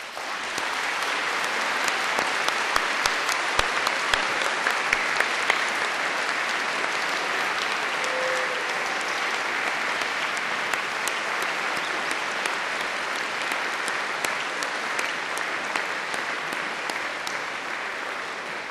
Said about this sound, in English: giving them all an enthusiastic round of applause